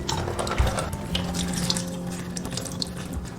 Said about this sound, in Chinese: 那我们把红豆跟糯米清洗干净